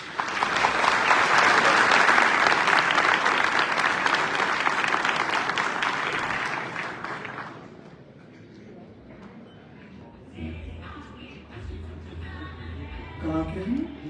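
Loud, dense applause from a university youth festival audience giving a standing ovation, sustained for about seven seconds before fading into crowd murmur and talking.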